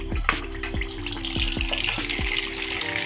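Chopped vegetables fry for pav bhaji in plenty of oil and a spoonful of butter, with a close, steady sizzle and a repeated scraping and tapping of a spatula at a fairly even rhythm, and no voices.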